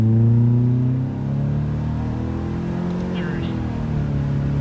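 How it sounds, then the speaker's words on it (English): A 2016 Subaru Impreza 2.0i Limited pulls away hard from a standstill, its engine note climbing steadily and loud over several seconds, with a voice talking over the rising drone. "Foot's on the brake, and I'm gonna start accelerating."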